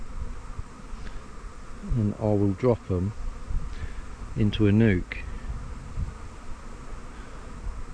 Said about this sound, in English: that is a good size swarm